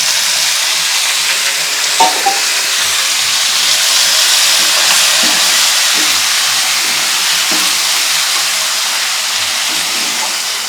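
Loud, continuous sizzling and hissing fills the clip, like water hitting a hot pan, with faint clinks of stirring underneath.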